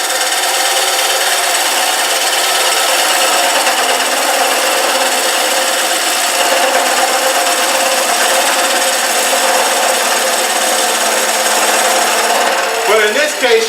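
A coring tool cutting into wood on a lathe, producing a loud, steady grinding rasp that holds constant for over ten seconds and ends with a few scraping knocks.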